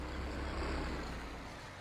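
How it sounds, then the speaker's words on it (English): A white tractor with a cab in Farming Simulator 22, set up for slurry spreading, gives off a steady low engine drone that holds evenly throughout with no talking. "Seems like a good job for the white tractor."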